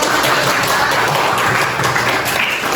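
Classmates in a classroom give a round of applause, a loud, dense, steady clatter of many hands close by that continues for a few seconds, easing slightly near the end.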